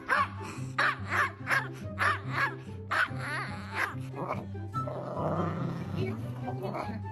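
A dog whimpers and lets out a run of short, rhythmic yips and barks, close and fairly clear, followed by a rougher, noisier stretch of sound.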